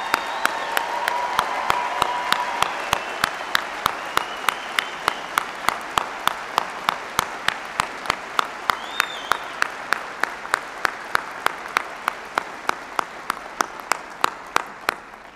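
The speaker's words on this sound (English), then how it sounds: "please join me in a round of applause for these amazing individuals and their accomplishments" Sustained applause from a large crowd at a spring college commencement ceremony for health, human services and engineering graduates, dense steady clapping that thins into scattered individual claps toward the end.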